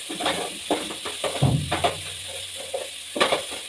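Whole onions frying in a pan, a soft, close sizzle punctuated by a few light scraping stirs and utensil taps, steady and fairly quiet.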